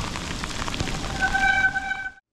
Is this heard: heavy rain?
yes